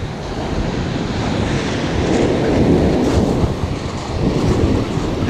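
Waves breaking and washing on Walcott beach in Norfolk, a steady surging roar with wind buffeting the microphone, close and fairly loud.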